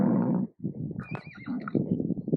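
A horse near Patlian Lake gives a loud, close whinny, breaking off briefly before a rising neigh and further snorting calls, alone without talk.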